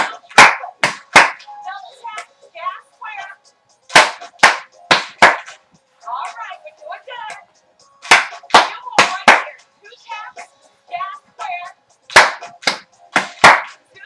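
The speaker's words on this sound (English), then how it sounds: "Let's have a clap. Single triplet clap." People in an exercise class clap in rhythmic groups of sharp, loud claps, repeated in regular patterns with brief spoken cues and quieter movement sounds between the bursts.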